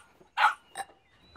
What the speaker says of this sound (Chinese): 这是我们做的那个小狗舍，里面全是流浪狗。